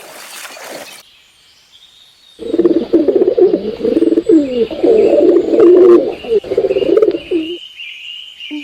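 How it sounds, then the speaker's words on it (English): A dove coos in a steady, rolling series of soft, low calls lasting several seconds, close and clear, with faint bird chirps and a brief burst of noise at the start. "Dove."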